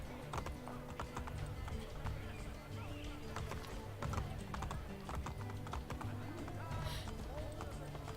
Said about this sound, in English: Machiavelli is very fast on a horse